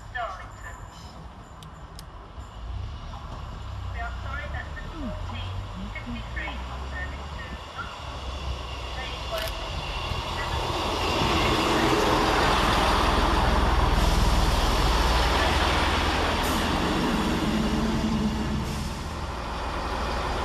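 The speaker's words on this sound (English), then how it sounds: "Next around the corner is 158844, working the 1452 Northern service of Saltburn to Darlington." A Northern class 158 diesel unit, 158844, runs into Thornaby station on a Saltburn to Darlington service, a low rumble swelling from faint to loud and then easing off, with station ambience around it.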